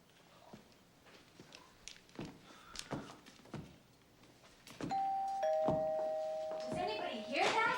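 Doorbell at a front door, a sustained electronic ding tone ringing near the end after scattered thumps and footsteps, with people talking around it.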